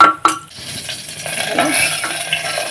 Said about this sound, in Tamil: இந்த வெந்தயம் ஜீரகம் பச்சை மிளகா இது மூணும் கொஞ்சம் நல்லா வறுக்க வறுபடட்டும்